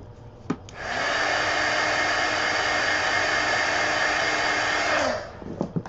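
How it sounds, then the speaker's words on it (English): A heat gun blowing on a coloring page makes a loud, steady whooshing roar that starts after a brief click, runs for about four seconds and then winds down, with no talk. "Let me hit that with the heat gun."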